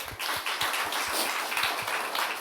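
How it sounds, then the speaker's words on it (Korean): Congregation clapping together after a call for applause during a Korean Sunday church service, steady dense applause with rhythmic claps, fairly loud and continuous. "우리 하나님께 영광의 박수 올려드리겠습니다"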